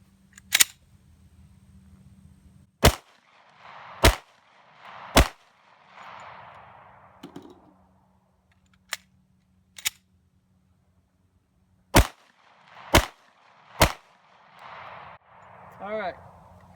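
A Smith & Wesson handgun fires about ten sharp, loud close shots at uneven intervals, some in quick pairs and triplets, with brief talk and outdoor background between them.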